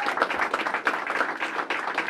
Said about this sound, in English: let's give a round of applause to every one of these candidates who have stepped up to the plate